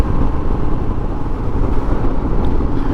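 A Royal Enfield Himalayan motorcycle ridden along at a steady pace, its engine a continuous, fairly loud rumble with wind noise and no other sounds.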